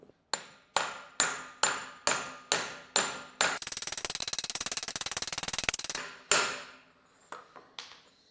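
Repeated sharp hammer blows drive a cup onto a BMW F11 wheel bearing, about eight evenly spaced metallic strikes, then a rapid buzzing rattle burst, followed by a few more scattered knocks, close and loud.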